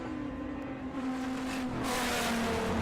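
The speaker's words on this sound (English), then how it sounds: "Hear him lifting off," A drag race car at a Volkswagen festival strip roars with a steady engine drone that swells into a louder, broader rush toward the end, heard from a distance with no talk.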